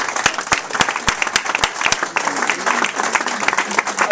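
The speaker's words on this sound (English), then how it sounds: "Let's applaud that." Audience at an awards night breaks into applause, sharp individual hand claps ringing out first and merging into a steady, close clapping crowd that carries on for several seconds.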